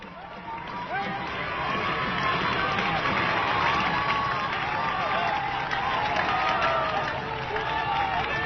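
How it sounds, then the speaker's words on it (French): A large enthusiastic crowd applauds and cheers presidents Bourguiba and Senghor with sustained clapping and shouting, swelling slightly and holding loud for several seconds, with a commentator's voice running over it. "ont longuement répondu aux acclamations et aux ovations chaleureuses de cette foule enthousiaste"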